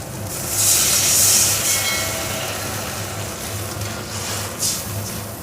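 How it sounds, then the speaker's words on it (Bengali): Water hitting hot spice paste frying in a pan while cooking a koi fish curry with green banana, a steady loud sizzling hiss swelling at first and continuing with a low background hum. "এবার জল দেব।"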